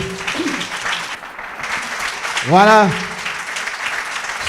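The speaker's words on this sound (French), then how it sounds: "Est-ce qu'on peut applaudir?" Audience applause at an entrepreneurship talk sounds as a steady, fairly distant wash of clapping under a voice, which briefly speaks and rises in pitch over it.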